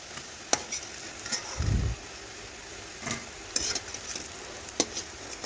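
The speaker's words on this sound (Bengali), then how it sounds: "এখন বড়াগুলো আমি তেল ঝরিয়ে তুলে নিচ্ছি।" Gram-flour spinach fritters in hot oil give off a quiet, steady sizzle, punctuated by sharp ladle clicks and taps as they are lifted out and drained.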